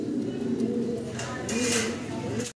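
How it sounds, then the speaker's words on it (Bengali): A pair of racing pigeons coo in low, rolling murmurs that run steadily through the whole stretch, with a person talking over them. "ভিডিও স্ক্রিনে দর্শক আমরা দেখতেছি ভাইয়ের কাছে একজোড়া রেসার কবুতর আছে"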